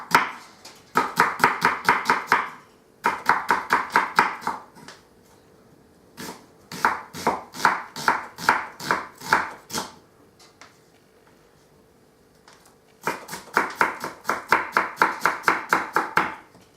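Rapid knife chopping on a cutting board while preparing spaghetti bolognese, delivered in four quick bursts of close, crisp, evenly spaced strokes separated by short pauses.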